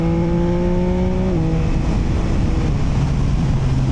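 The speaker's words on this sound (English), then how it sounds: "So you can hear the exhaust," A Yamaha MT-09 motorcycle exhaust hums steadily while riding, a smooth low droning note that shifts pitch slightly as revs change, heard under heavy wind rush with no voices.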